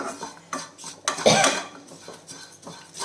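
Roasted vermicelli tossed with cashews in a pan. Clear scrapes and clinks of a metal spoon stir it in short bursts, close up, with only a faint frying hiss beneath.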